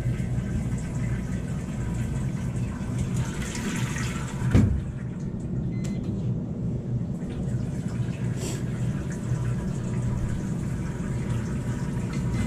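Water pours steadily into a Speed Queen top-loading washer after a water inlet valve replacement, a continuous close rushing fill with a brief clunk partway through.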